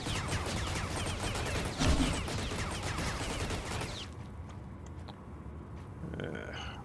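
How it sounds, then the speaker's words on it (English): Rapid automatic turret gunfire in Space Engineers, a dense loud fusillade for about four seconds that cuts off abruptly, followed by quieter mechanical clanks and hum. "Oh, it's immediately shooting at me."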